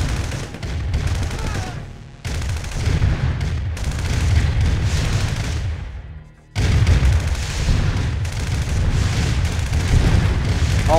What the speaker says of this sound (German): da knallt er aber ordentlich rein hier.